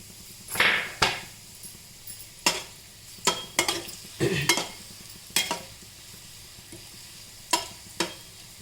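Tamarind is added to hot oil in a pan while making coriander-leaf thokku. Intermittent clinks and scrapes of stirring break through a soft sizzle, each stroke sharp and close.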